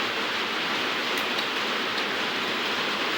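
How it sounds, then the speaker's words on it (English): Steady, dense rain falling outdoors during an electric kettle repair, a continuous close hiss of drops filling the whole stretch with no talk over it. "It's raining, by the way."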